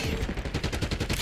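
Rapid automatic gunfire from a weapon in Call of Duty: Black Ops 6, a steady burst of closely spaced shots lasting about a second, loud and close with no talking.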